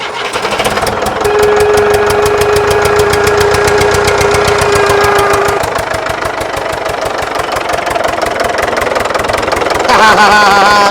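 An old tractor engine is cranked over and fires up, settling into a loud, rapid, knocking diesel-like rhythm that runs steadily up close with a metallic whine over it.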